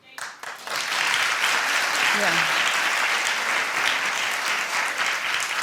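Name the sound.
studio audience clapping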